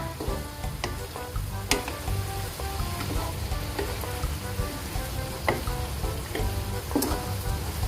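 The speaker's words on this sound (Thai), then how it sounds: "แล้วก็ผัดให้มะเขือสุกแล้วก็กระชายหอมขึ้นค่ะ" Eggplant and fingerroot stir-fried with minced pork in a pan make a loud, continuous sizzle broken by repeated clinks and scrapes of the spatula, with no talking.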